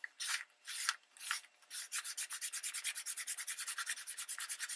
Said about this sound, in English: And then I'm just going to begin rubbing.